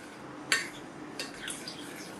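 Salt, red chili and fried onion are mixed in a pot for chicken dum biryani. A spoon gives a sharp metallic clink against the pot, then a few soft scraping stirs, close and fairly quiet.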